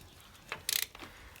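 A ratchet fitted with a 1/2 inch socket turns nuts during timing chain work on a 2.0 petrol Volvo V50, giving a quick burst of sharp metallic clicks within a second or so.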